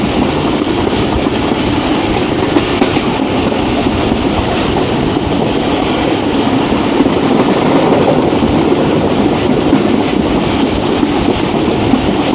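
Jaffar Express hauled by a ZCU-20 locomotive gathers speed through a curve, its wheels rumbling and clattering steadily on the rails with a loud, continuous roar and no voices.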